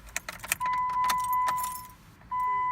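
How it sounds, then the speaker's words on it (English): Keys jangle and clink as they are tossed into a Jeep's ignition, a quick cluster of metallic rattles, followed by a steady high electronic chime inside the vehicle that stops and starts again. "throw the keys over here in the ignition"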